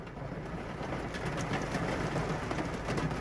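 Heavy rain pouring down outdoors as a car pulls in, a steady, dense hiss close by with no voices.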